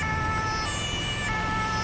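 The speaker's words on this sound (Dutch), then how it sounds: "De sirene." An ambulance siren wails in GTA 5 on the way to an injury accident, a steady, continuous electronic tone over low road rumble, alone with no voices.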